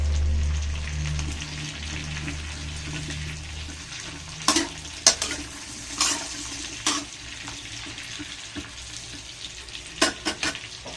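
Pumpkin pieces dropped into a pan of golden fried garlic set off a steady sizzle with a low hum beneath, punctuated midway and near the end by several sharp scraping clatters of a spatula stirring.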